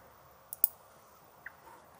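A computer mouse clicks twice in quick succession, then once more a moment later, the clicks sharp, close and isolated against near silence.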